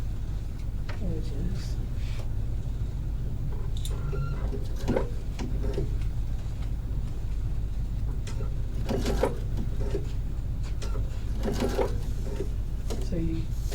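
A sewing machine stitches a fabric circle onto a cylinder to make a bucket, giving a steady close motor hum with rapid needle chatter throughout, while a person talks over it.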